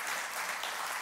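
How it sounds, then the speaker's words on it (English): Church congregation claps in praise during a sermon, a dense, even wash of many hands clapping together, moderately loud and sustained throughout without speech. "let's give God a good clap of praise right there."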